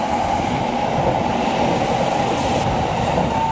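An express train rushes past a station in Kyoto, Japan without slowing, a loud steady rumble of rails and wheels with a brief high hiss partway through.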